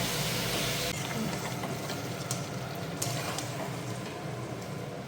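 Goat meat frying and being stirred in a pan during kosha cooking, a steady broadband sizzle throughout, close and fairly loud, with occasional clinks and scrapes of a utensil.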